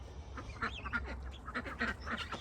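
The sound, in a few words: ducks quacking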